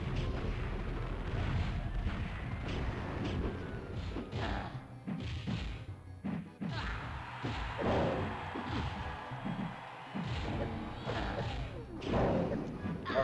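A missile launcher mounted on a character's back fires in a fighting video game, giving repeated heavy thuds and booming blasts spread across the stretch over a busy game soundtrack, with a voice talking in places.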